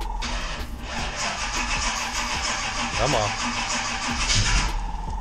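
A 1973 Chevrolet C10 truck's modified 500-horsepower engine cranks over and sputters, trying to catch, loud and close, with a voice urging it on.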